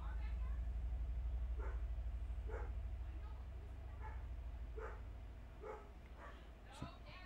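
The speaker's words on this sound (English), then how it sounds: "Dogs are barking like crazy for some reason." Dogs bark in a string of evenly spaced barks, about half a dozen, distant-sounding over a low steady indoor hum, with a sharp knock near the end.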